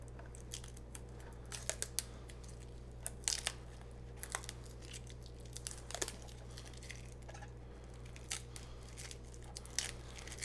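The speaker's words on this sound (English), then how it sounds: "Peel off some of this protection here. Peel it off of this as well." Plastic protective film being peeled off a new Roku Ultra 4670X streaming player, producing a string of close, crisp crackles and short tearing rasps scattered through the clip over a steady low hum.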